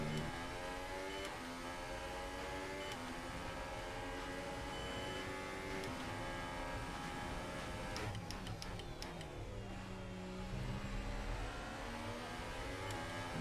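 A Formula 1 car engine in the F1 2018 game at the Bahrain Grand Prix screams steadily at high revs, with a brief cluster of sharp shift clicks and a drop in pitch near the end.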